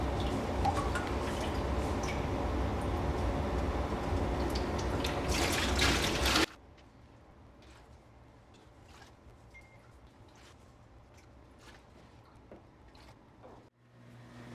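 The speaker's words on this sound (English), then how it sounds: "Can't fit the bucket in the tank, so you gotta get water from the cup, put it inside the bucket." Water poured from a cup into a bucket while filling it for a pond fish: a steady close splashing pour for about six seconds, then it stops and only faint trickles and small drips remain.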